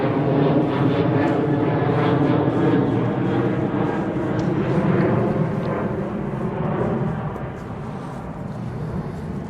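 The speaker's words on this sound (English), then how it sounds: "I could hear the plane." A loud, steady jet airplane roar rumbles overhead for the whole stretch, broad and continuous, easing slightly toward the end.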